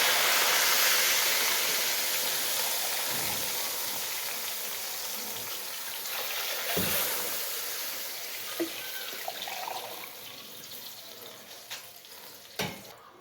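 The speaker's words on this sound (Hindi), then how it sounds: "पानी को बॉयल आना शुरू हो गया था" A large pot of yakhni stock for Lahori charga pulao comes up toward a boil, giving a soft steady bubbling hiss with a few clinks and knocks scattered throughout, and nobody talking.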